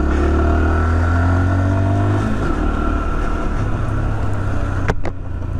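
Zontes Mantis 125 fuel-injected motorcycle riding close by, a loud engine note rising then settling into a steady drone with wind rush, and no talking.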